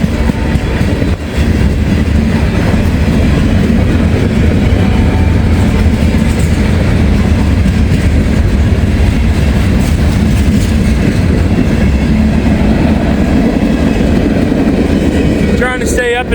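A freight train rumbles past close by, loud and continuous, with clattering wheels and a brief metallic squeal near the end.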